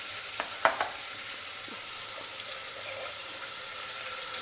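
Chopped ripe tomato frying in a pan for a one-pot South Indian sambar rice, a steady broad sizzle with a few brief stirring clinks early on.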